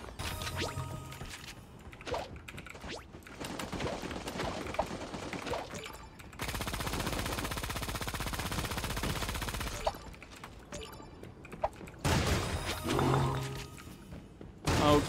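Automatic gunfire from the video game Creative Destruction, with bursts of rapid shots broken up by a long, steady stretch of continuous firing and a few dull thumps.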